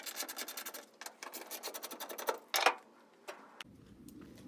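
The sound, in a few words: T40 wrench removing tailgate handle bolts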